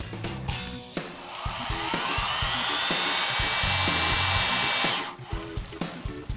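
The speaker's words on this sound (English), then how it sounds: "When the gun senses the 450 foot-pounds of torque, it'll shut off automatically." A torque gun set to 450 foot-pounds tightens a heavy bolt, a loud, close, sustained whirring drill-like whine for several seconds that stops abruptly when the gun shuts off, with short mechanical clicks before and after.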